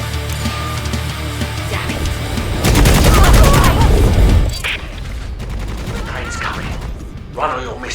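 Gunfire in the game Necromunda: Hired Gun, a dense rapid burst of automatic shots in the middle, with scattered bangs and impacts around it and a voice shouting.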